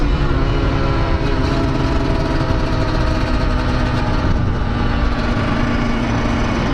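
A two-stroke motorcycle rides along with a loud, steady, buzzing engine drone and heavy wind noise throughout.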